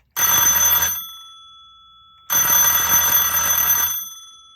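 An antique electric bell powered at 6 volts rings loudly in two bursts, each a rapid metallic clatter about a second long, separated by a brief pause.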